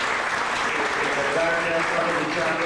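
Audience applause at a public commemoration event, a steady wash of clapping heard throughout while someone speaks over it.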